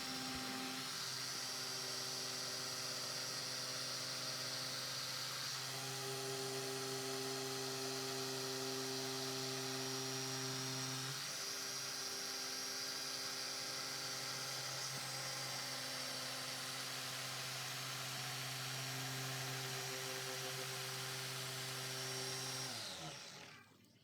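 A dual-action polisher works SONAX Profiline EX 04-06 polish in a slow crisscross pattern, giving a steady, close electric whir whose pitch shifts slightly from pass to pass before the machine winds down at the end.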